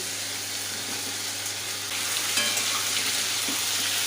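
Vegetables with turmeric frying in a pan for Bengali shukto, a continuous close sizzle that grows a little louder midway, with faint stirring clinks and no talking.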